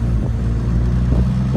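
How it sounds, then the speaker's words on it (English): Loud, steady low engine rumble from a car coasting in freewheel with the engine idling, a continuous drone with faint road and wind noise and no voices. "So with freewheeling, the car will coast and the engine will idle"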